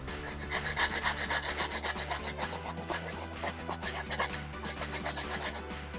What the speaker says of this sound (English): sandpaper the edges.